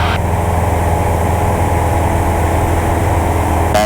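Light aircraft engine throttled back to about 2,200 RPM, a steady, loud, droning hum that fills the whole stretch without letting up and without any talk over it.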